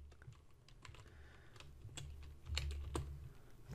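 Steady, fairly quiet typing on a computer keyboard, with irregular clicky keystrokes over a low background hum and no voices.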